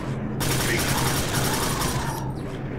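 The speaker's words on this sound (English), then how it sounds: "Got a pistol now." Pistol gunfire in the shooter game Quake 4, heard as a loud, dense burst of rapid shots that starts abruptly and runs almost continuously for about two seconds before cutting off.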